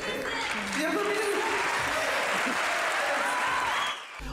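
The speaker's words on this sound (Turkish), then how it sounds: "Merve Dizdar salondan büyük alkış almıştı" Sustained audience applause filling a theatre hall at the Afife Theatre Awards ceremony, steady dense clapping throughout that tapers slightly at the end.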